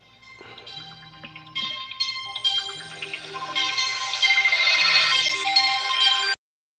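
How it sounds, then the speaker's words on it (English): A phone ringtone plays a repeating melodic pattern of bright tones over a low pulsing figure, rising in loudness through the sequence before cutting off abruptly, with no voices. "Somebody making a phone call."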